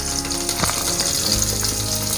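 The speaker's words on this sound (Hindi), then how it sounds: "नेक्स्ट प्रोसेस के लिए मैंने 5 टेबल स्पून ऑयल लिया है, ऑयल गर्म हो चुका है। अब मैं इसमें कैबेज डालूँगा।" Chopped cabbage drops into five tablespoons of hot oil for chicken chow mein, setting off a loud, steady sizzle that fills the whole moment, close and continuous without speech.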